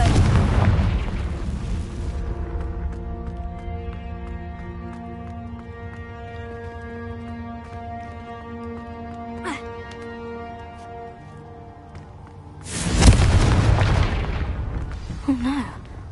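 A Confringo blasting-spell explosion in Hogwarts Legacy: a loud burst opens, sustained musical tones follow, and then a second powerful explosive boom with a rumbling crackle erupts near the end.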